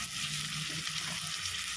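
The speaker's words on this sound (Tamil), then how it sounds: "இப்போது ஒரு 5 நிமிஷம் கத்திரிக்காய் நல்லா வதங்கணும்." Eggplant sautéing in oil makes a dense, continuous frying sizzle with soft stirring, close and steady, with no voices.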